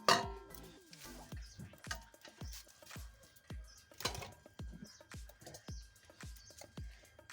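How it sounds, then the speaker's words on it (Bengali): A metal kadai is set onto a stove while cooking at an outdoor Bengali picnic, heard as a quiet series of scattered clinks and knocks of cookware, no voices. "আর একটা কড়াই বসিয়ে দিচ্ছি।"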